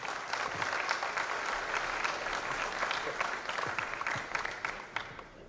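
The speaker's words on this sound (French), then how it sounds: "Merci beaucoup, Mehdi Hawass, on peut l'applaudir." An audience applauds after a keynote talk, a warm steady wave of many clapping hands with sharper individual claps, holding strong before tapering slightly at the end.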